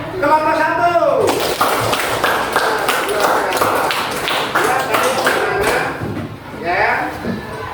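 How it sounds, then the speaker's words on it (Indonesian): A classroom applauds group 1 with a burst of many hands clapping that lasts several seconds and then fades. A voice speaks just before the clapping starts. "Untuk itu kita aplaus untuk kelompok 1"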